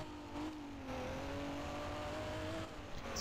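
A 2008 BMW M3 engine in the Rigs of Rods driving game drones at a moderate, steady pitch, slowly rising, fairly faint and without speech.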